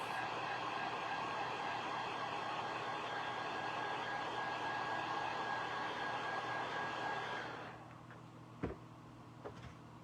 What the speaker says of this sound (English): Hit it with the heat gun.